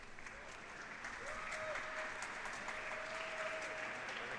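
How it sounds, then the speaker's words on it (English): Audience applause at a national Rubik's Cube 3x3 finals as a competitor begins a solve, a steady broad wash of clapping from a crowd throughout, moderately distant, with a faint tone heard in the background. "there's a bit of applause"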